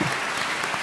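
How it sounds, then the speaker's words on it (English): Dense, even applause from a large crowd at an international gathering, a brief continuous burst of many hands clapping together. "warm applause."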